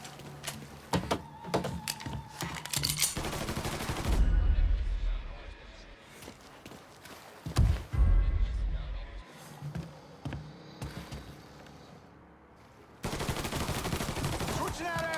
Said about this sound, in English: Shots came from that away.